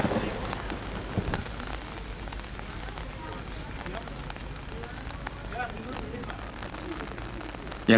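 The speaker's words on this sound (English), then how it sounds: "The raindrops are falling on mulberry trees from the Orient." Steady rain falls on mulberry trees in Jiangnan in late spring, a dense, even hiss of drops that holds at the same level throughout.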